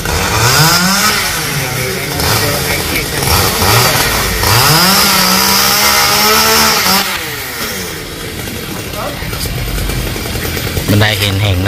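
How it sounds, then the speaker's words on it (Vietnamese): A chainsaw cuts through small Sao tree tops high up near power lines, its engine rising and falling in repeated revving strokes, loud and close, while someone talks over it. "Bên đây hiện hiện đang cưa mấy cái sao nhỏ nè quý vị."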